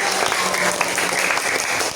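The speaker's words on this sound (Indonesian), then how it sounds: "Tepuk tangan untuk kita semua." Steady applause from a group fills the space, dense clapping that holds evenly throughout with a few voices faintly mixed in.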